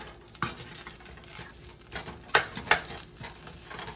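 Butter melting in a pan for an infused butter sauce with lemon, giving a low, steady sizzle broken by a few sharp clinks and scrapes of a utensil, close and alone with no voices.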